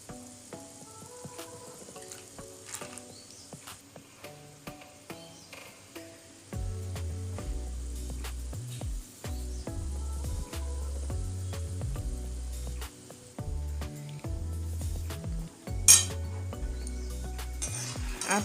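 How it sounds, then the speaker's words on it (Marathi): Peanuts sizzling and frying in a pan for poha chiwda, with steady crackle and occasional clinks of a utensil stirring against the pan, rhythmic scraping bursts in the second half, close and moderately loud with no talking. "आता व्यवस्थित गोल्डन रंग येईपर्यंत या पद्धतीने आपण शेंगदाणे फ्राय करून घ्यायचे आहेत."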